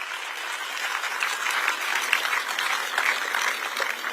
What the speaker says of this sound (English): Give a round of applause to the AV team